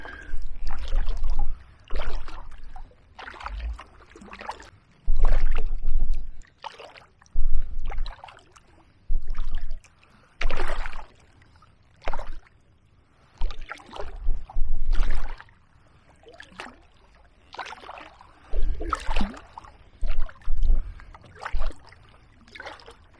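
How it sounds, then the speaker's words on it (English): Canoe paddles dip and pull through the water of the River Stour in Kent, a steady series of splashing, swishing strokes separated by short quiet gaps, close by and fairly loud. "There you go, a day out on the paddle. Nice relaxing paddle."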